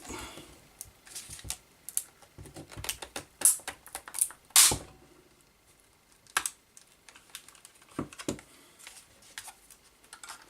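Wire cutters snip into the plastic case of an Xtar Queen ANT MC6 lithium-ion USB battery charger, giving a quiet series of sharp, irregular clicks and cracks with a couple of louder snaps and pauses between them.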